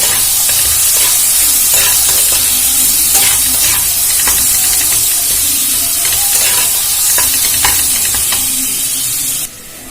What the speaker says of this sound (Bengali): এবার এটা নাড়াচাড়া করে ভেজে নেব।